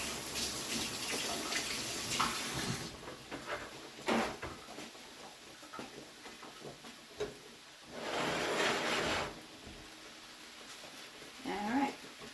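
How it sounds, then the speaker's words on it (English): Tap water running over hands at a kitchen sink between cooking steps, a steady hiss that swells louder around the middle, with clatters and small knocks throughout and a voice briefly at the end. "I'm going to rinse my hands."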